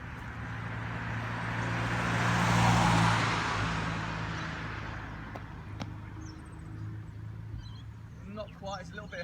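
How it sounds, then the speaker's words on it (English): A car drives toward the listener on a rural road, its broad engine and tire rush swelling to a peak about three seconds in and then fading away, with steady low hum and a few faint bird calls near the end. "there's a car coming"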